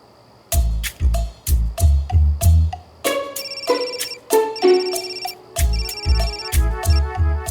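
A loud electronic phone ringtone plays a repeating melodic pattern of bright beeping tones, steady and close, with no talking.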